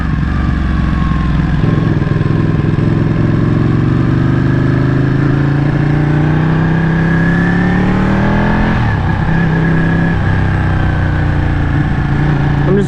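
A Ducati 1199 Panigale motorcycle engine pulls hard while riding, a loud, continuous close drone whose pitch climbs steadily through the gears, with a brief shift dip near the end.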